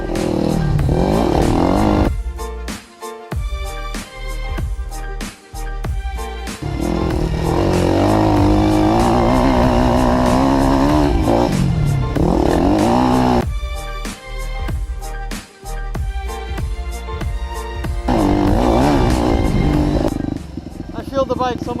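A motocross bike after a suspension tune-up accelerates and revs hard in repeated surges, its loud engine note rising and falling with brief gaps between pulls.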